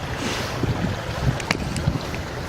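Strong winter wind gusts across a beach in Saint John, New Brunswick, roaring steadily into the microphone, with faint surf and a few small clicks and knocks beneath the rush.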